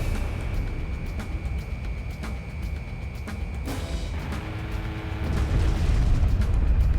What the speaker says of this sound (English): Missile launch. Crash and burn.